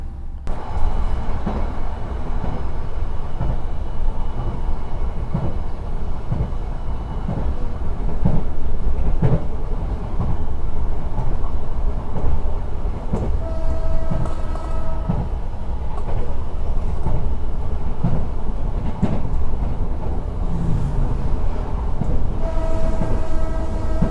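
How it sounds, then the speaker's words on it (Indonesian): Passenger trains Argo Dwi Pangga, Taksaka and Sembrani overtaking at speed, around 120 km/h, heard as a loud continuous rail roar with clattering wheels and short horn tones in the second half. "kita disusul 3 kereta api, Argo Dwi Pangga, Taksaka, Sembrani"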